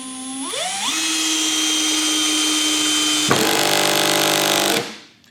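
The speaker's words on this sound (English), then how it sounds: "you could hear that clutch engage" Cordless hammer drill driving a larger screw on clutch setting 7: a rising high motor whine that holds steady, then the clutch engages with a rapid ratcheting clatter for about a second and a half before the drill stops.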